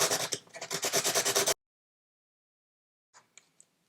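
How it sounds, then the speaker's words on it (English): A pencil is sanded while being turned, giving a close, rhythmic rasping scrub of quick strokes that stops abruptly, followed by silence and a few faint scrapes. "keep kind of turning it as you sand, so that it will sand as evenly as possible"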